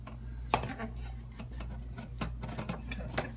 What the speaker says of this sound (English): let's try it with the spatula now